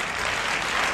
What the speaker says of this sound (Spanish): Y el aplauso de toda España.